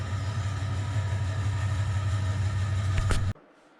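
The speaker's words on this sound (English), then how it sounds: "You can hear the engine rumble." A car engine in the Dirt 4 racing game gives a loud, steady low rumble with no break for about three seconds, then cuts off abruptly into near silence.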